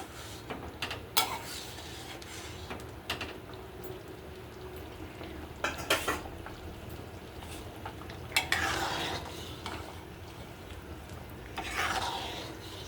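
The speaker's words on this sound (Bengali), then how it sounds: "দিয়ে ভালো করে নাড়িয়ে নিচ্ছি" A spoon stirs mixed lentil dal with a little sugar in a pan, giving quiet intermittent scrapes and clinks against the metal with a soft background hiss between strokes.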